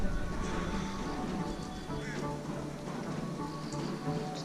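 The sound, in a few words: rain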